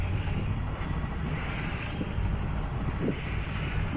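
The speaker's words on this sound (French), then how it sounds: "toujours le vent dans le nez" Steady wind roars and buffets the microphone aboard a sailboat heading into a light headwind between Cap Sicié and Martigues, loud and continuous with a faint wash of water beneath.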